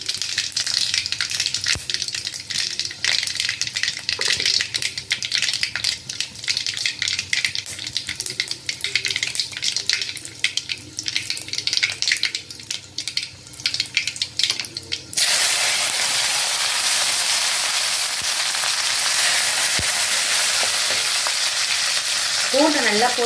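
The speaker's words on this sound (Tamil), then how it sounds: "பூண்டும் கருவேப்பிலையும் நல்லா பொரிஞ்சிருச்சு" Garlic and curry leaves frying in hot oil for a green turkey berry kara kuzhambu, a loud crackling, spitting sizzle for most of the clip that settles into a smoother, steady hiss near the end.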